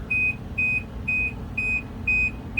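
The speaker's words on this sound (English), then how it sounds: "Every light turns on and it won't stop beeping." A Kenmore Elite HE4 dryer's control panel, faulty and stuck with every light on, gives five short, evenly spaced electronic beeps against a low background hum, each beep clear and close.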